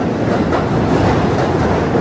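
A train rumbles across a New York City bridge, a loud, continuous close roar of rolling wheels and rail noise with no pauses.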